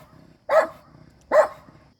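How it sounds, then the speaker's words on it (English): A dog barks twice indoors, two short, moderately loud barks about a second apart against a quiet background. "My dog's just barking because my parents drove home."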